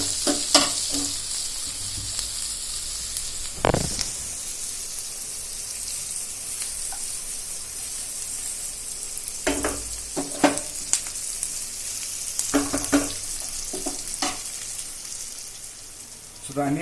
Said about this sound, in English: I've turned the flame to high now, and we'll fry the onions until they turn light golden brown.